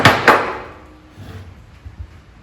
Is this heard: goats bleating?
no